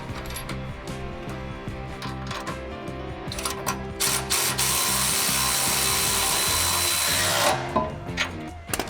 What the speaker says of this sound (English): bolt it right here using the supplied hardware